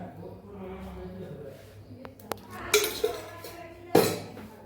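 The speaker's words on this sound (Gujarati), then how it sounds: "થોડો થોડો ઉમેરતા જઈશું અને લોટ બાંધતા જઈશું" A spoon clinks against a bowl in a few sharp taps while sorghum flour dough for Manchurian muthiya is mixed, and someone talks quietly throughout.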